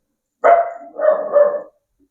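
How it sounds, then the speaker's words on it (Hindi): A dog barks close by in a quiet room, first one short yelp and then a longer, drawn-out double bark, loud and alone with no talk over it. "मैं पढ़ाऊंगा और ये कुत्ता ना भौंके, ऐसा हो सकता है?"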